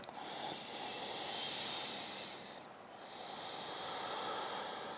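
A long, deep breath drawn and released during a yoga flow, close and soft, with a brief dip in the airy hiss between the inhale and exhale.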